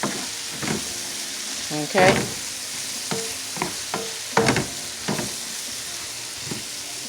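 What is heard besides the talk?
pork chops sauteing in a pan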